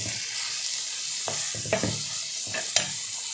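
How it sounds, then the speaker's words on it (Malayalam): Onions with tomato, ginger garlic paste and salt sizzle gently in a pan for crab roast, a soft continuous frying hiss broken by a few scraping stirs and clicks of the spoon. "തക്കാളി, ഇഞ്ചി വെളുത്തുള്ളി പേസ്റ്റ് കൂടെ ചേർത്ത് കൊടുത്ത് ആവശ്യത്തിന് ഉപ്പ് ഇട്ട് നമുക്ക് നന്നായിട്ടൊന്ന് വഴറ്റിയെടുക്കാം"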